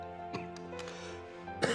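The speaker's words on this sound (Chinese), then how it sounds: "这怎么总咳嗽？" A man coughs several times in short, sharp bursts spread across a quiet indoor scene, with a heavier throat-clearing cough near the end.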